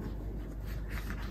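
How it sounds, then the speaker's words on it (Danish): A pen drawing on sweater fabric, moving up and down in a soft, steady scratching rub that stays faint and continuous, with no talk over it. "Jeg kører sådan både op og ned, når jeg tegner her."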